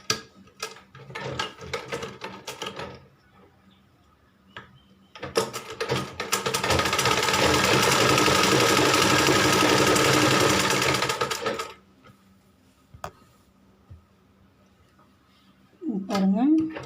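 A sewing machine stitches a blouse, starting with short bursts and then running in a long steady whirring stretch of about five seconds before stopping. Someone speaks before and after the run.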